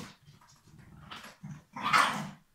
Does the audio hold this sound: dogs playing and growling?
yes